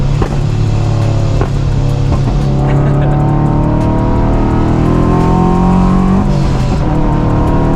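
A supercharged or turbocharged Subaru BRZ/86 revs loudly and up close. The steady engine drone carries a few sharp exhaust pops and crackles scattered through it.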